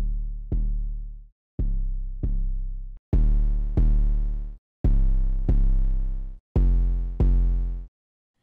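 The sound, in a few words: 808 bass without and then with distortion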